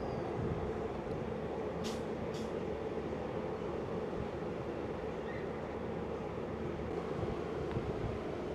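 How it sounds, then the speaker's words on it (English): A New South Wales TrainLink Explorer set pulls into a station, heard as a faint, continuous low rumble of rolling wheels mixed with wind noise, with two brief higher squeals of metal early on. "we see another New South Wales Trainlink Explorer set pulling in"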